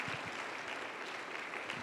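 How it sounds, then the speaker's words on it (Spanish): Church congregation applauding during a Sunday sermon, a steady, dense wash of clapping that fills the whole short stretch at moderate level with no voices on top. "Dale un aplauso porque recibió a Cristo."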